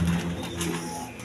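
A short, low coo from farm-bred breeding pigeons, a soft continuous hum with faint clicking noise mixed in, heard close.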